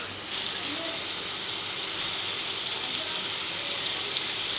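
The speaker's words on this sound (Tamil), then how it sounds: "வெங்காயத்தை நல்லா வதக்கிக்கலாம்" Onions sautéing in a pan with curry leaves for Tamil kothu parotta, a steady, close hissing sizzle that holds evenly throughout with no talk.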